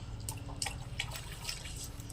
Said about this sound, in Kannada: ಚಂಬೂಲಿ ತೊಗೊಂಡು ನೀರು ನಿಧಾನವಾಗಿ ಹಾಕ್ತಾಯಿದ್ದಾರೆ